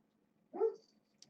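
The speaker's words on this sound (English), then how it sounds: "my dog is just barking because he's annoyed and wants me to come upstairs" A house dog gives a single short, sharp bark indoors, moderately near, followed by quiet; no one speaks.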